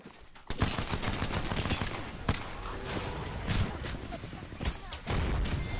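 Rapid bursts of gunfire from a gun in Apex Legends crackle in quick repeated volleys, sharp and fairly close, with occasional heavier thuds scattered through the steady fire.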